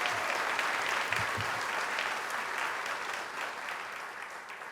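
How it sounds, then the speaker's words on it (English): A crowd applauds school superintendents at a New York City education announcement. The clapping is steady and moderately loud and tapers off gradually toward the end. "Give them a big round of applause."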